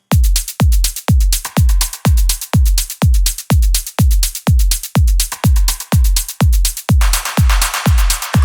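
A loud, steady four-on-the-floor kick pulses with snappy claps and crisp hi-hats in a driving melodic techno loop, playing without any voices.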